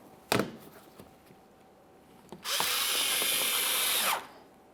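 A power drill whirs steadily for about two seconds, driving a screw into a fog light hole cover panel on a 2014-2018 Mazda 3, after a couple of sharp knocks; close and loud, with no talking.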